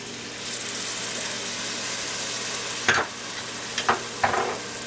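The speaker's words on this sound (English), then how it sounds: "that vinegar with that acid makes that sound" Steady frying-like fizz of vinegar bubbling for oven baked barbecue chicken, with a few sharp clinks of a spoon stirring against the pan near the end.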